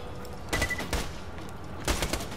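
Gunfire in Borderlands 2: two separate bursts of shots about a second and a half apart, each a quick cluster of sharp reports over a steady background of game ambience.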